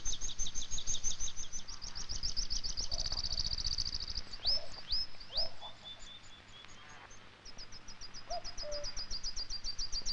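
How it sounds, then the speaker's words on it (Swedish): Many birds sing and chirp at sunrise over woodland, a dense chorus of rapid high trills and tweets with a few distinct whistled calls, steady and fairly near, with no voices. "Och fåglarna runt omkring honom jublar."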